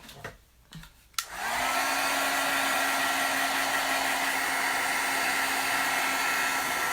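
A hair dryer switches on after a few soft handling knocks and then runs as a loud, steady close whoosh, drying an acrylic paint background.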